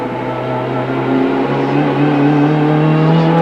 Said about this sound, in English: You hear that turbo come on like a bomb.